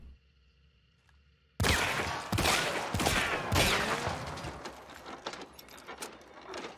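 Weapon handling and reloading in Hunt: Showdown, a sharp loud onset followed by a series of metallic clicks, clacks and shell-loading knocks in quick succession, close and clear with no talking.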